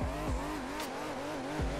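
Video game racing car drifting, with a clutch kick making the engine note rise and fall and tyres squealing through the slide, a steady loud engine tone under the whole stretch.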